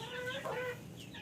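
Hen in a poultry coop clucking while laying an egg, a short close run of throaty, wavering clucks, alone and moderately loud.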